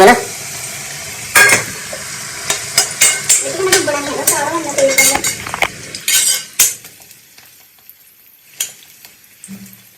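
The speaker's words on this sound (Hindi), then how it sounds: "ਬਸ ਹੁਣ ਫਰਾਈ ਹੋਣ ਵਾਸਤੇ ਛੱਡ ਦੋ" Onion, garlic and green chilli sizzle steadily in hot oil while a spoon scrapes and clinks against the pan in a run of sharp strokes, the stirring stopping and leaving a fainter fry.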